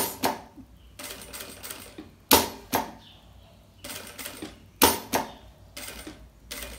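A sewing machine stitches with brown thread along a marked line, running in short, loud, close bursts with pauses between them and no talking.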